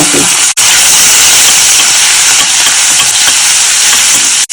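Garlic and cumin seeds frying in hot oil make a loud, steady sizzling hiss that fills the whole stretch, with a brief break near the start and another at the end.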